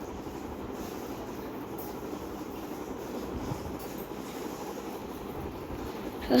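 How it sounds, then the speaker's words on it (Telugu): Fast train passing in the Indian Bikes Driving 3D video game: a steady rumbling rail roar with a rhythmic wheel clatter, continuous and fairly loud, with no voices. "ఇదైతే ట్రైన్ చూడండి గైస్, ఎంత ఫాస్ట్గా వచ్చేసిందో"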